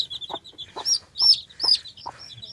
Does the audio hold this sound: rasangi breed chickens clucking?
yes